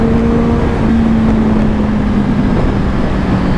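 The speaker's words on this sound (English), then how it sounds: "Sounds amazing. I can hear that exhaust all day long." Motorcycle fitted with an Akrapovic carbon exhaust, a steady loud engine drone with a sustained low tone while riding, up close and with no talk over it.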